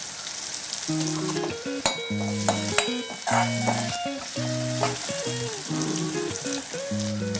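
Tomatoes and coriander being stirred in a sizzling frying pan for a Maharashtrian masoor dal dish, a steady fry hiss with scraping spatula strokes and a few sharp clicks, while soft background music plays along.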